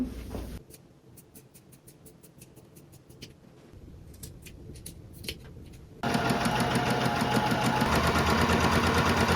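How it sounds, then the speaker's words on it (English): A sewing machine straight-stitches a hem on thrifted clothing, first in slow, spaced ticks, then running at a fast, steady, loud mechanical chatter for the final seconds, up close with no speech. "then do a straight stitch across to hem it"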